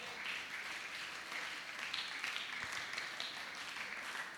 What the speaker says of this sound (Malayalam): എല്ലാവരും ചേർന്നിട്ടൊരു ബൈബിൾ ക്ലാപ്പ് കൊടുത്തേ